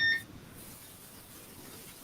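Short electronic beep at the very start of a call, a brief high tone lasting about a quarter second, then only quiet background hiss.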